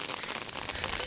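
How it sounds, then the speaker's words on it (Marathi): Heavy rain falling hard on surfaces, a dense, even hiss of drops, fairly faint and brief with no voices. "किती जोराने परत लगेच झाला पाऊस"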